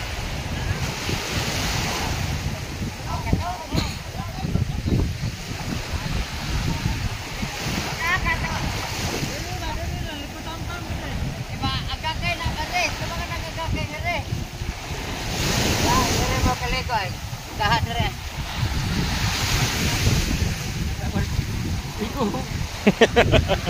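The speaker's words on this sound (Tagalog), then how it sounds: "Grabe ng alon ng mga kaibigan, mga laking alon." Large ocean waves driven by a monsoon storm crash and roar continuously with heavy wind buffeting the microphone, and a person talks intermittently over the surf.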